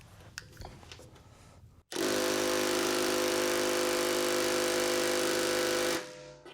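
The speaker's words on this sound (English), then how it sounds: "So we're gonna have to bump it up to a 1/2 inch impact" A 1/2 inch impact wrench hammers continuously for about four seconds while trying to break a seized bolt loose on a truck that has sat unused for six years, loud and close, then cuts off abruptly.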